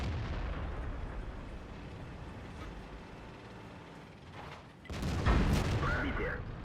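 Tank cannon fire in World of Tanks booms out amid rumbling battle noise: a low continuous rumble gives way to a heavy blast and rolling echo near the end, with faint metallic mechanical sounds.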